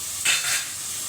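Food sizzles in a hot pan during home cooking, a brief broadband hiss that swells for about a third of a second and then settles into a steady quieter frying crackle, with no talking.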